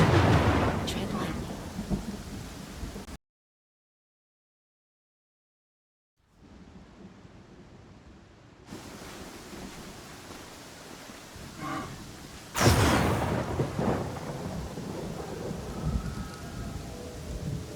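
Thunderstorm in Pathfinder Kingmaker: heavy rain hiss with rolling thunder, cut by a brief silence, then resuming softer before a loud crack and rumble surges back, with steady downpour continuing beneath.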